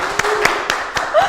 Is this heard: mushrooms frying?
no